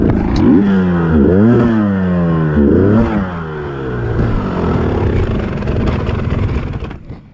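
A dirt bike engine revs hard in repeated rising and falling bursts on a muddy motocross track, loud and close, settling into a rougher drone toward the end.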